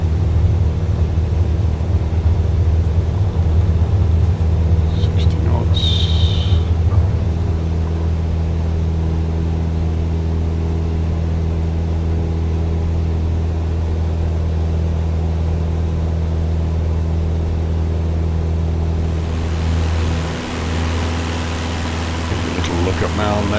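A light bush plane's engine drones loud and steady through a takeoff run on a runway at Maun, Botswana, with a brief higher whine partway through and a slight shift in tone near the end.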